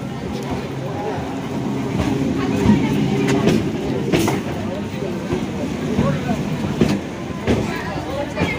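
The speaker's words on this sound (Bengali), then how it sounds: "ট্রেনটা ঢুকছে, ট্রেন ঢুকে গেল।" A train pulls into a busy station, its low rumble and rolling rail noise rising beneath constant crowd chatter and nearby voices.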